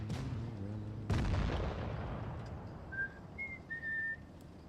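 A single loud artillery shot booms in a tank video game, a sharp blast that decays into a rumbling tail, followed by a few faint high whistling tones.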